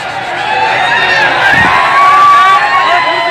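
Rally crowd at a political speech cheering and shouting loudly in a dense, continuous roar, with scattered whistles rising above the noise throughout.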